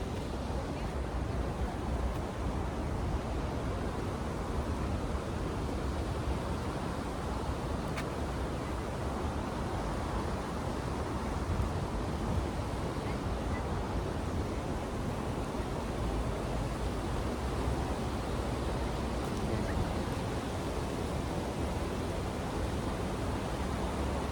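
Water from a small stream in Tashkent rushes as a steady, dense hiss, close and unbroken for the whole stretch, with nobody talking over it.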